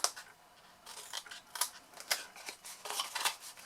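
Scissors snip wedges out of the corners of a paper gift box, a quick run of crisp, close cuts with short pauses between them and no talking.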